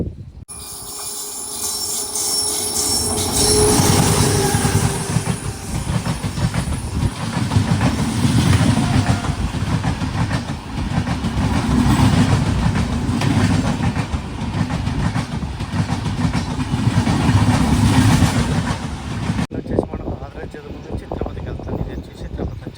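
The Andhra Pradesh Sampark Kranti superfast express train rumbles past close by for a long stretch, wheels clattering and hissing steadily, then the noise cuts off abruptly near the end.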